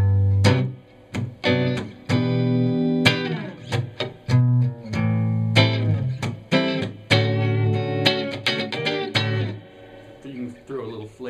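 Chord progression voiced in major and minor seventh chords on a sustained, distorted-sounding keyboard, struck chords ringing out one after another with rhythmic stabs and a few quick flourishes, no talking over it.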